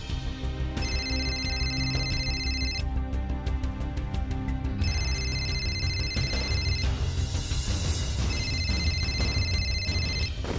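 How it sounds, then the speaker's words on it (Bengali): A landline telephone rings indoors in bursts of bright electronic trilling, three rings separated by short pauses, fairly clear over a faint room hum with no talking. "ল্যান্ডলাইন থেকে কি আবার ফোন করছে?"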